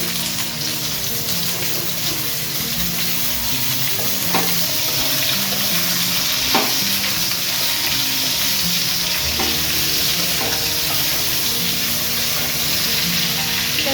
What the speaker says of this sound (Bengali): ঝিঙেটা দিয়ে দিচ্ছি